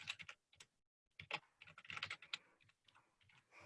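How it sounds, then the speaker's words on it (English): Quick, uneven keystrokes clatter on a computer keyboard, close and fairly quiet, with a brief pause before the typing resumes. "so I'm sure you all could hear me typing there."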